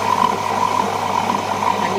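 A wet grinder runs while grinding vada batter, a steady motor hum with a churning drone, close and continuous throughout.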